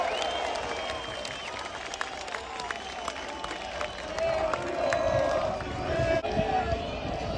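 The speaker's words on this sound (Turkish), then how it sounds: "Büyük bir alkış ona." A crowd applauds and cheers at a Beşiktaş celebration for winning the Ziraat Türkiye Kupası. The applause forms a steady, rising wash under an announcer's amplified voice.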